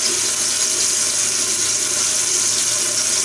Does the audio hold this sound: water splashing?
yes